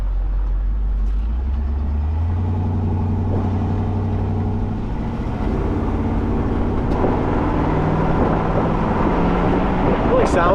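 Steady engine drone from a 1967 Camaro convertible on the road, with low rumbling tones that shift in pitch as it accelerates, plus wind buffeting and road noise throughout.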